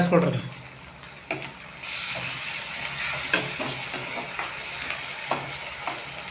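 Tomato going into a pan of black-eyed beans and spinach curry, a bright steady sizzle that swells after a clattering drop, with occasional scrapes of a spoon stirring through.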